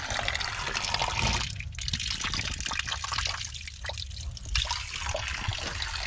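Water trickles steadily from a mountain spring at a highland summer pasture, a continuous close splashing flow with no talk.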